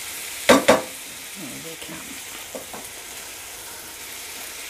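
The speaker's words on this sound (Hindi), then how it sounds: "इस तरह से आपने अच्छे से इसे मिक्स करना है।" Chicken filling with chili sauce is mixed in a pan, starting with two sharp spatula knocks, then quieter scraping and stirring over a faint sizzle, while a voice speaks briefly.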